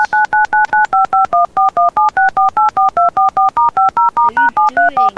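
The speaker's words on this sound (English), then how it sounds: "Oh, sorry, I'm just trying to dial something." Telephone dialing tones in a Don't Starve Together Volac mod: a fast, steady run of about two dozen loud, evenly spaced touch-tone beeps that shift in pitch, with no talk.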